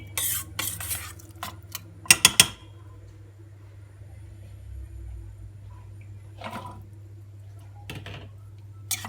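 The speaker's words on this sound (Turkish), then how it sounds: "Güzelce karıştırdıktan sonra süzmüş olduğum kuru fasulyemi ilave ediyorum." Drained dried beans are stirred into a pot, with a few sharp metallic spoon clatters and scrapes against the pot separated by quiet stretches and a low background hum.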